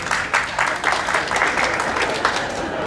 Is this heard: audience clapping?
yes